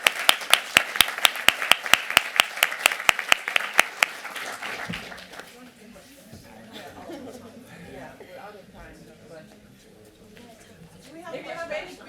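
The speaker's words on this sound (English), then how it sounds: "So please, a big round of applause." A few people in an audience clap at a London tech summit payments panel, their sparse, evenly spaced claps fading after four seconds into murmured chatter and light laughter.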